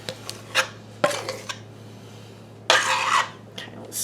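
A utensil scrapes cake topping across a baking pan in short, rough strokes, with a few scattered clicks and taps between them and one longer scrape near the end.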